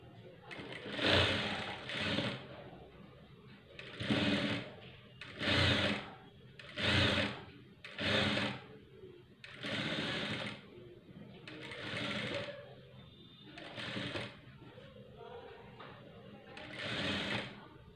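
Sewing machine stitching a sleeve runs in repeated short bursts, about ten whirring rattling runs with brief pauses between, close and moderately loud, with some talking mixed in.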